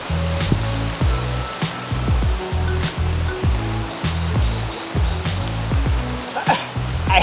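Rain pouring down during a storm near the water at Bocas del Toro, a dense steady hiss of drops with a rhythmic low thumping running underneath, no voices.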